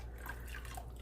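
Fragrance oil pours into peach soap batter as a faint, brief liquid trickle with soft dripping, close and quiet, with no talking.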